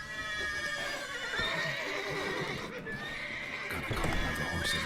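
A horse in The Witcher 3 video game neighs with a long, shrill whinny over hoof clip-clops, set against a steady game background, moderately loud and close.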